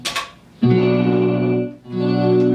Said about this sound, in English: Here's just the chorus.